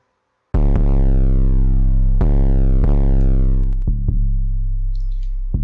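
A distorted synth bass beat plays back loudly, with a few heavy tonal hits that each slide downward and sustain before the next strikes, rich buzzing overtones stacked above, and no talking.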